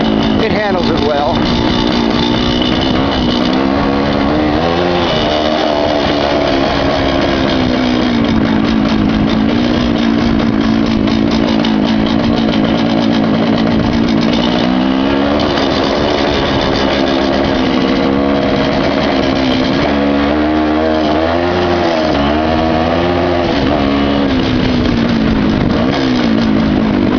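A 1970s Yamaha MT250 Elsinore dirt bike engine drones loud and steady as the bike rides over rough ground, its pitch wavering with throttle changes throughout.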